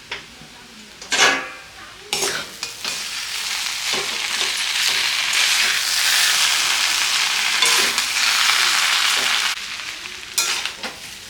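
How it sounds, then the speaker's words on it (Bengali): White chow mein with meat fries in a pan while a utensil stirs it, a steady loud sizzle broken by sharp scrapes and clinks against the metal, with nobody talking. "এবার একটু নাড়িয়ে দিব।"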